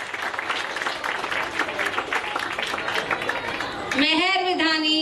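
Audience applause at a stage programme where a child performs as a peacock, fairly dense clapping for about four seconds before a voice cuts in over the tail.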